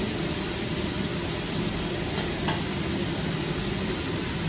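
Food fries in a pan with a steady, loud, unbroken sizzle, a continuous hissing wash close up and no voices over it.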